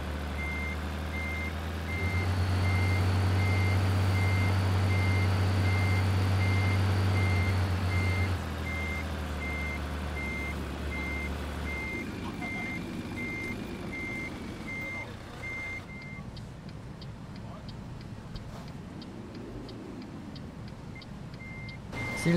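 A truck reversing in the video game Trucks & Trailers gives a steady, evenly spaced reversing beep that runs throughout. A loud engine roar sits under it at first, then drops away to a quieter rumble.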